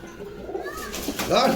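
Pigeons coo at a pigeon house in Bogura, the low murmuring calls blending with someone talking throughout and building slightly toward the end.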